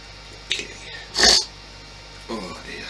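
A person gives one sharp, close sneeze, with smaller breathy sniffs just before and after it.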